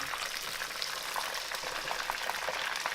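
Crumbed steak deep frying in hot oil crackles and sizzles steadily while being flipped, a dense close bubbling with small pops and no voices.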